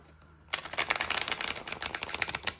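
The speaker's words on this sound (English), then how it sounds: "Let's do one more shuffle." Tarot cards are shuffled briskly after a moment of quiet, a rapid, dense flutter of papery snaps lasting a couple of seconds.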